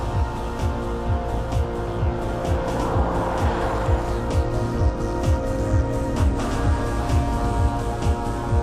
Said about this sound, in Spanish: Con sus 32 válvulas y 8 cilindros en V, desarrolla una potencia de 370 caballos